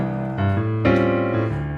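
A jazz piano plays a 2-feel accompaniment on a ballad: a walking bass note roughly every half second under sustained chords, close and full, with no voices.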